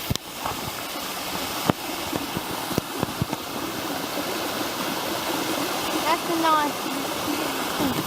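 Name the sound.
waterfall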